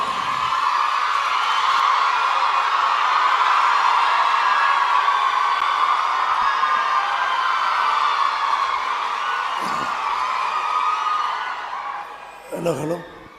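An audience at a ceremony applauding and cheering, a broad sustained wash of clapping with whoops that fades toward the end as a voice comes in.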